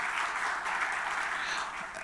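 Sustained audience applause fills a post-budget forum on economic transformation, a steady, even wash of many hands clapping at moderate distance with no pauses and no speech over it.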